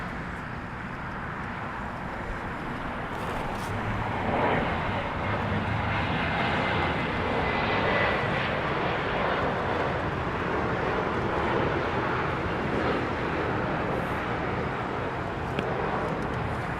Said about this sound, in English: Here it is, 747-400 freighter.